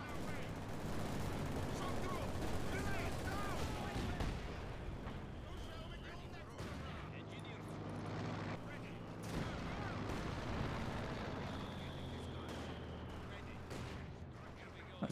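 DP-28 machine gun fire in a multiplayer war video game, dense bursts and booming artillery-like blasts layered continuously throughout, with voices talking over the battle noise.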